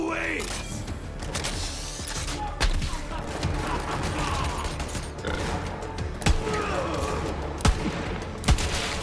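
Repeated gunshots and bursts of automatic fire in Borderlands 3, sharp cracks scattered over a busy game soundscape, with someone talking throughout.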